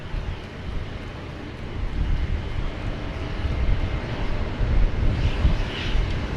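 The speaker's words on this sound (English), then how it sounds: "we don't normally get the FedEx 777, sorry, the FedEx MD-11 departing during the daytime" A FedEx MD-11 cargo jet departs Sydney Airport on a rainy day, its broad low engine roar steady and fairly loud, swelling slightly toward the end, with no voices.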